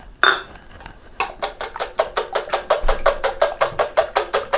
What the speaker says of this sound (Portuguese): Só aqui com o fouetzinho, a gente já vai, olha, batendo.